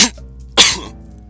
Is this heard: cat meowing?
no